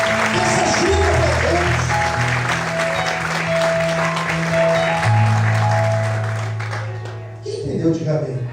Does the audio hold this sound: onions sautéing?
no